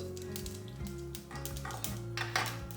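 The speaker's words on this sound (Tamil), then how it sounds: "இப்போ எண்ணெய் காஞ்சிட்டு கடுகு உளுந்தம் பருப்பு, அடுத்தது வெந்தயம்" Mustard seeds, urad dal and fenugreek crackle and sizzle steadily in hot oil for a rasam tempering, with a low humming tone running underneath throughout.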